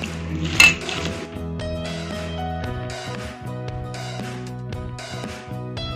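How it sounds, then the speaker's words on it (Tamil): Egg mixture stirred in a bowl with a spoon, clinking and scraping against the bowl's side in an uneven rhythm, close and fairly quiet, with one sharper clink near the start. "இதெல்லாம் மிக்ஸ் பண்ணிக்கலாம்."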